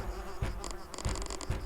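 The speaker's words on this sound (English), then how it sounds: "The wasps gathered around the sheriff." A swarm of wasps buzzes with a droning, wavering hum, close and continuous, with a few low thumps mixed in; it is produced as a sound effect.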